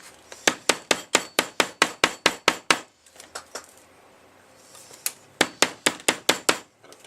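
A hammer bangs a deformed metal plate on a Holden Astra, Barina, Vectra or VZ ECU: a quick, even run of about thirteen sharp, ringing strikes, a short pause, then six more, loud and close.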